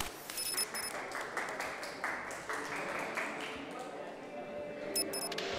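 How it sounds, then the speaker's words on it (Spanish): Applause greets a boxer entering the ring at a boxing event, a crowd clapping steadily with camera shutter clicks crackling in and out, heard faintly at a distance. "Vamos a recibir primeramente en la esquina azul ese aplauso para Esmeralda Torres."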